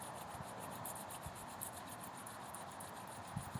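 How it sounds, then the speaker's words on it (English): Two hands rub vigorously together during a gentle chair yoga session, a soft continuous rasping friction with a rhythmic back-and-forth swish, close and quiet, with no talking. "Rub the hands vigorously together"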